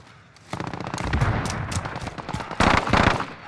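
Dense gunfire in Call of Duty: Modern Warfare, a loud continuous barrage of overlapping shots and bursts that swells sharply midway and keeps rolling to the end.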